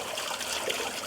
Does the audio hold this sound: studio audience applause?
no